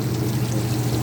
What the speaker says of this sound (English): I'd say we're going to put about a cup of wine.